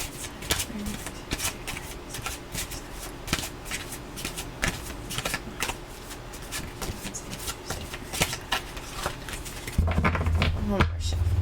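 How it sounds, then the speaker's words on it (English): Tarot cards being shuffled by hand, a continuous run of crisp riffling flutters and soft slaps close by, with a low hum coming in near the end. "one more shuffle."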